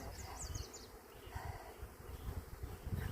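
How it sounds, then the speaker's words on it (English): Honeybees buzz around a loaded beehive frame during an August honey harvest, a soft, steady hum with a few higher whining passes of individual bees close by, faint and without talk. "that one's loaded with bees"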